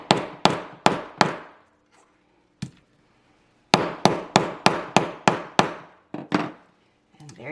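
A hammer pounds a leather strap on a sturdy hard surface, giving sharp, loud strikes in quick runs of three or four, then a lone blow, then a run of six or more, with brief pauses between.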